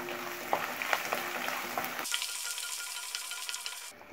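Finely chopped ginger frying in hot oil with roasted chana and urad dal for Guntur chutney, a steady close sizzle with occasional stirring clinks, cutting briefly quieter midway.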